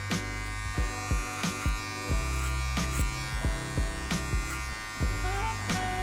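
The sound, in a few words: electric hair clippers cutting hair during a fade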